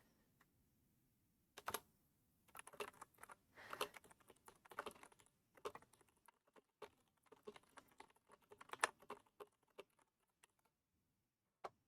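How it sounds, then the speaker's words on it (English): Fingers type on a computer keyboard in quick, uneven bursts of close crisp clicks, with brief pauses between runs and no voices. "Yes, ASMR typing."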